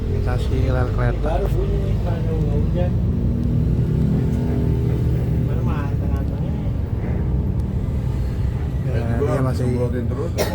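A Hino LK bus on leaf spring suspension rumbles steadily with a low, continuous road and engine drone while people talk inside the cabin.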